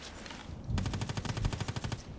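Sustained burst of HK 243 light machine gun fire in the shooter game Contract Wars, a fast, even rhythm of loud, close shots that starts after a brief quieter moment and runs to the end.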